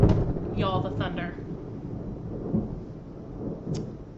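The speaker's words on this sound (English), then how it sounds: "Y'all, the thunder." Thunder rumbling from a storm outside, low and distant, heard as a steady roll with a few swells while a person talks over it indoors.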